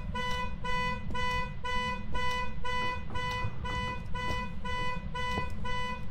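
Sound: car alarm honking

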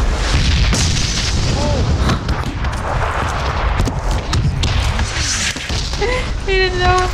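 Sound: grenade explosion in the video game PUBG

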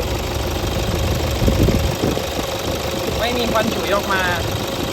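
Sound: Toyota Hilux Vigo 3.0 diesel pickup engine running

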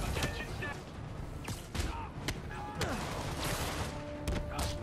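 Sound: gunfire in Spider-Man video game

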